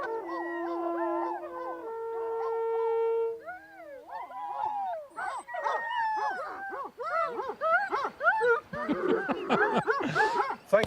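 Several dogs in Romania howl, yip and bark in repeated rising and falling bursts, loud and close, after a held steady musical tone at the start.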